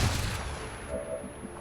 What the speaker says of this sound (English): We should be able to flashbang him with that.